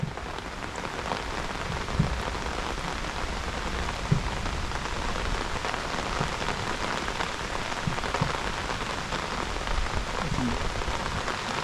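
Rain falls steadily on the water and a small boat near Munroe Island, a dense, even patter with a few louder drops knocking close by.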